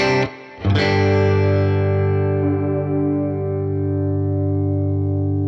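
A sustained, distorted electric guitar tone rings out after a sharp strum, with echoing repeats from a delay pedal, slowing as the delay is changed, thickening the sound as it holds.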